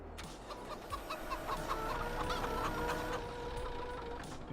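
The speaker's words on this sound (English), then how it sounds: "We feed our chickens." Farm chickens cluck steadily in a close, busy chorus of repeated short calls over a constant background hum, with no talk.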